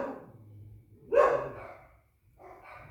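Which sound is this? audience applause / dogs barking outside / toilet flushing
dogs barking outside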